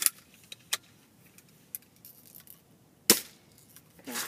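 A BB gun fired outdoors, with a couple of sharp snapping shots standing out among lighter clicks and rattles, close and brief with quiet gaps between.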